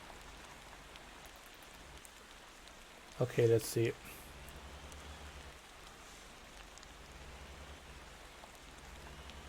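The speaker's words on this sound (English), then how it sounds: "I hope the rain isn't gonna give me any more trouble than it needs to do." Steady rain hisses throughout the driving game Motor Town, a soft, even patter with a brief spoken remark partway through.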